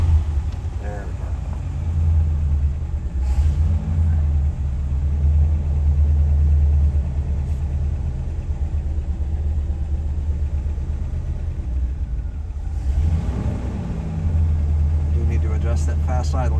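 A 1967 Lincoln's engine idles steadily with a deep, loud low rumble just after a hard start, its pitch shifting slightly near the end as someone speaks over it.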